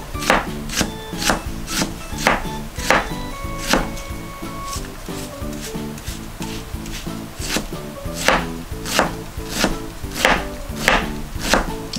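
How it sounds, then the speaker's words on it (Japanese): An onion is minced finely with a knife on a cutting board for tofu hamburg steaks, giving rapid, crisp, evenly spaced blade taps close by that come in steady bursts without talk. "玉ねぎをね、まずみじん切りにするところからやっていきたいと思います"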